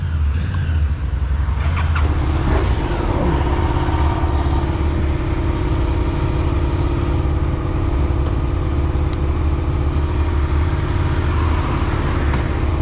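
Motorcycle ride near Riederberg in Austria, with a steady engine drone and wind rush holding at a constant level throughout, some gear and pitch shifts early on, close and loud with no talking.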